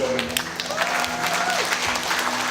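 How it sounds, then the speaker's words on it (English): Wedding guests clap for the bride and groom, Kieran and Bronwyn, with a steady patter of many hands over soft background music and some faint voices. "So I'm going to massive round of applause for Kieran and Bronwyn."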